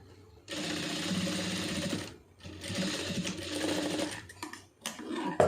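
Sewing machine joining two pieces of fabric along a marked line, a loud rapid whirring run in two long bursts with a short pause between, then a few brief stops and starts.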